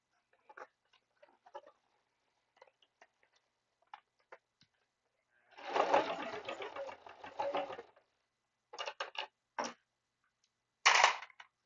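A sewing machine stitches in a short, steady rattling run, close and moderately loud, framed by scattered clicks and handling taps in a quiet room.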